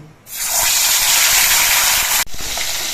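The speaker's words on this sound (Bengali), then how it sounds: "কড়াইয়ের তেলটা ভালো মতো গরম হয়ে গেছে এবার মাছগুলো ভেজে নিচ্ছি" Fish frying in hot mustard oil in an iron wok gives a loud, steady sizzling hiss that starts abruptly, holds strong for about two seconds, dips briefly, then continues.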